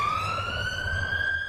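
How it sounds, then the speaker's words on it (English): A police car siren wails continuously with a rising tone while racing down the Strand in central London, loud and close over a low engine rumble, with no talk. "So we have lights and sirens on"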